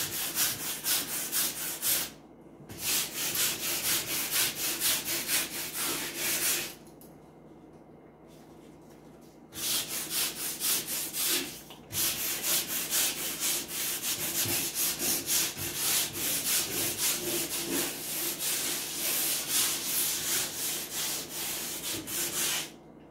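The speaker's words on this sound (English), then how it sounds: "I want to scrape this a little bit." Scraping an old wooden dresser by hand, rapid rhythmic rasping strokes in close bursts separated by brief pauses, with no talking.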